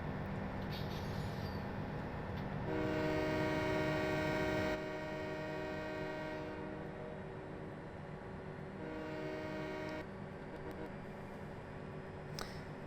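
Train running in the video game Farming Simulator 17: a steady rumbling drone with a sustained horn-like harmonic tone swelling twice, over continuous low mechanical noise.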